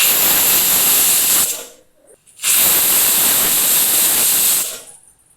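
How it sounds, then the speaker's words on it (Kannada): Pressure cooker whistle blasts off steam while corn pulao cooks: two loud, sharp hissing bursts separated by a brief quiet gap, close by and alone. "ಕುಕ್ಕರ್ ಮುಚ್ಚಳ ಮುಚ್ಚಿ 2 ವಿಷಲ್ ಕೂಗಿಸ್ಕೋಬೇಕು"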